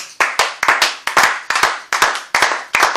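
A church congregation claps together in a quick, steady rhythm, a dozen or so crisp, loud hand claps in a few seconds with no voices.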